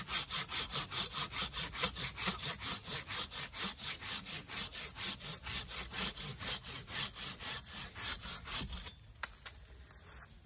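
A top-brand hand saw cuts through wood in steady, rhythmic push-pull strokes, close and loud, for about nine seconds before stopping, leaving faint handling noises.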